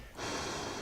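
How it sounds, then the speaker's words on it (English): Slow, soft breathing from a patient during a chiropractic chest exam, a close airy exhale rising from near silence and holding steady. "Gentle breathing."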